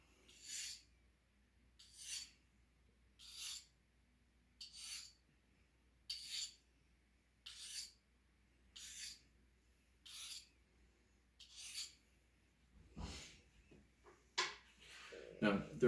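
A knife blade scrapes across a whetstone in about ten regular strokes, each a crisp rasping swipe separated by short silences, close and moderately loud, ending with a few quicker rubbing sounds.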